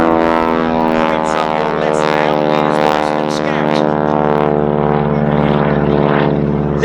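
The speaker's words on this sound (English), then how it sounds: "This is a fabulous aircraft to fly, so responsive to tight manoeuvres" A Boeing B-17 Flying Fortress drones steadily overhead at Duxford Air Festival, its piston engines and propellers giving a loud, sustained multi-harmonic roar throughout a tight manoeuvre, with no break in the sound.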